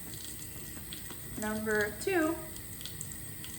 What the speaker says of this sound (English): to turn off the faucet